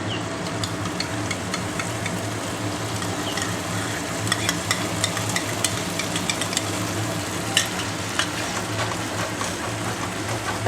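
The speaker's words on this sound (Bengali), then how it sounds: "ভালো করে কষিয়ে নেব" Potol dorma masala with sour curd sautéing in a pan, a steady low sizzle with scattered scraping and stirring clicks throughout, no talk.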